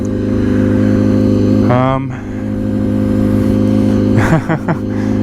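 A Honda CBR250RR motorcycle engine starts and runs loudly up close with throaty revs, while a person talks briefly over it.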